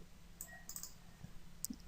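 Faint, sparse computer mouse clicks in a quiet room while working in the Unity editor: a few isolated light ticks spread over two seconds, with one sharper click near the end.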